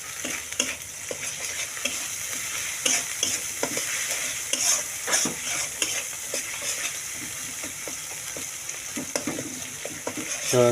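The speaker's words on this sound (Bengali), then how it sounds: "তো চেপা শুটকিটা দিয়ে ভালো করে কড়াইয়ের মধ্যে নাড়ানো হচ্ছে।" Fermented dried fish (chepa shutki) being stirred in a wok with ash gourd greens, frequent rhythmic scraping and clattering stirs over a steady sizzle, close and fairly loud, no voices.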